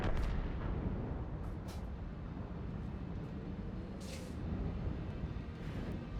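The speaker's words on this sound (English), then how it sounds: "I was just firing where I think it was gonna be by the time my shell gets there." Artillery shells firing in the tank game World of Tanks: a dense, steady rumble of booming blasts with a few sharper cracks above it, loud and continuous, with no voices.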